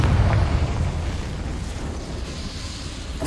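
The Confringo fire spell explodes in Hogwarts Legacy, a loud booming blast at the start that rumbles and slowly decays into a hissing tail.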